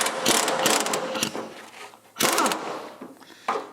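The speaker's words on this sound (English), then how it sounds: "So let's see if we can undo the second bolt as well." Ratchet wrench undoing a rusty bolt during fender and front axle removal on an old tractor: fast, loud clicking strokes close up, in two main bursts with a brief pause between and a last short click.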